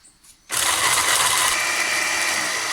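A small electric food chopper switches on abruptly and whirs at high speed as it blends tomatoes, a steady, loud mechanical buzz that runs without a break after a quiet opening.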